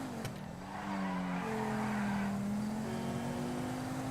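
Exotic sports car driven in GTA Online, a steady engine drone with a rising, sustained tire-squeal tone as it corners, loud and close with no talk.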